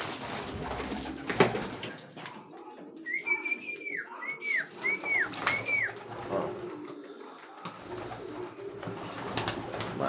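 Pigeons coo inside a pigeon loft on a frosty day, a few soft, rolling calls in a short run near the middle, fairly close, with quiet rustling around them.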